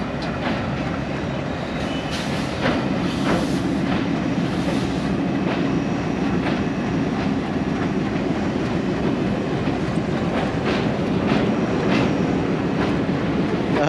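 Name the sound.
train crossing Pamban bridge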